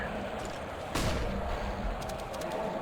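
A flashbang grenade goes off in a Counter-Strike: Global Offensive match, one sharp loud bang near the start, trailing into faint game noise and a few light clicks.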